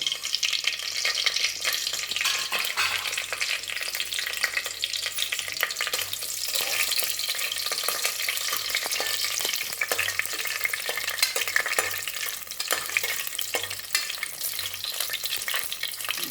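Whole spices, cinnamon, cloves, star anise, bay leaf and two cardamom pods, frying in hot ghee, giving a steady close crackling sizzle with light stirring noises throughout.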